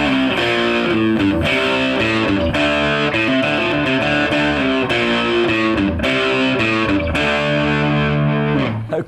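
A loud, heavily distorted electric guitar plays a riff continuously, chugging chords with sustained crunchy tone, no voices.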